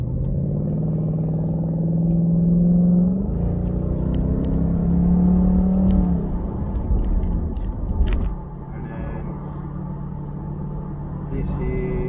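Jaguar XK8 engine on kickdown: a deep droning engine note climbs in pitch through a gear, drops, climbs again, then settles to a lower steady rumble as the car slows, with clatter and road noise at the close.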